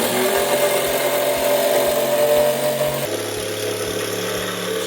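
A steady mechanical power-saw drone cutting a wood panel from a discarded drawer, continuous and loud, with a faint rhythmic thumping underneath and a slight pitch drop partway through.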